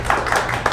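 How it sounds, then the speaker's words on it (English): An audience at a tech demo night breaking into brief, lively clapping, several quick bursts of hands close by. "Round of applause for Josh."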